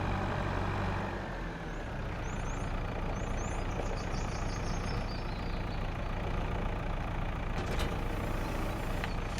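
A tractor engine driving in Farming Simulator 25, a steady low diesel rumble with a faint high whine and a brief hissing burst near the end.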